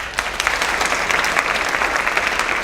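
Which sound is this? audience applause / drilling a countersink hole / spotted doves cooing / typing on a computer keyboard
audience applause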